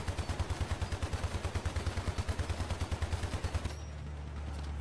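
An anti-air turret in the toy-war game Hypercharge Unboxed fires a rapid, evenly spaced stream of thumping shots for several seconds, then stops, leaving a low hum behind; no one speaks.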